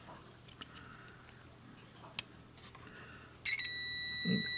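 A multimeter on continuity test gives a steady, clear high-pitched tone when its probes touch a new Whirlpool dryer thermal fuse, starting after a few faint clicks of probe handling and continuing to the end.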